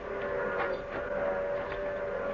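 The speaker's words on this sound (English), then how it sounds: "The train's coming." A distant train approaching on an old western frontier, a steady mournful whistle-like tone droning over a low rumbling bed, continuous and even throughout with no talking.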